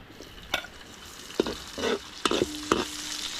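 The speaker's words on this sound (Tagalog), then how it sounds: "pundahan mo ng bawang, ah, sibuyas" Garlic and onion are sautéed in a pan for chicken tinola, with a soft sizzle and a few distinct scraping stirs and clinks spaced across a few seconds.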